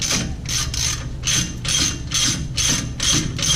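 A ratchet tightens a wheel hub bolt on a 2014 Ford Explorer during a stud replacement, giving repeated bursts of metallic clicking in a steady rhythm, close and clear with no talk.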